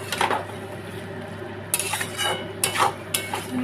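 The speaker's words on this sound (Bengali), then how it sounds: "চল চিনি দিয়ে নেড়ে নেবো।" A utensil stirs food in a pan after sugar is added, giving several scraping, clinking strokes over a soft sizzle and steady background hum.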